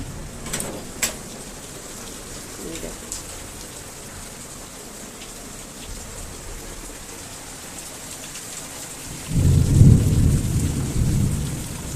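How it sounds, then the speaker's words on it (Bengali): Heavy monsoon rain falls with thunder around a thatched hut: a steady hiss of downpour with faint distant rumbles, swelling into a louder, closer roll of thunder near the end. "এসে গেছে দেখো ঝমঝমিয়ে বৃষ্টি"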